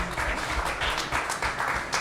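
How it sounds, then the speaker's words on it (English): A small audience applauds a college women's basketball player honored at a High Point University coaches show, the clapping steady and moderately close across two seconds with no voices over it. "A little round of applause."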